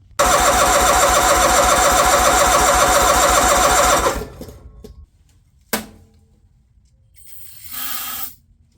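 A John Deere 318 lawn tractor engine, revived after sitting for 20 years, runs loud and steady for about four seconds, then dies away, followed by a brief clank and another short mechanical burst.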